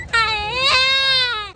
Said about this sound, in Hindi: बच्चा रो रहा